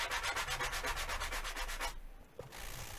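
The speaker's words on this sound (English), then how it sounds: "Got me a sanding sponge. I'm just going to go back and forth." A sanding sponge rubs back and forth on an acoustic guitar part in quick rhythmic strokes, close and clear, stopping briefly before a softer rub resumes.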